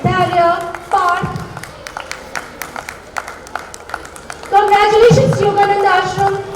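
Applause from the audience at a school annual day prize distribution ceremony, a steady patter of many hands clapping together, with an announcer speaking loudly over it at the start and end.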